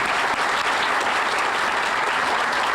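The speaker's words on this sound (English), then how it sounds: "I think a big round of applause." Dense audience applause at a company's 100-year celebration event, a steady wash of many hands clapping at once, loud and sustained throughout.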